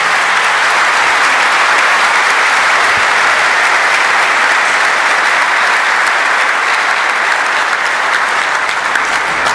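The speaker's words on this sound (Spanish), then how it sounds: "Un aplauso para él, que se lo merece." Sustained, dense applause from a church congregation at Sunday Mass honoring a departing Monsignor, steady and loud throughout with no pauses or speech.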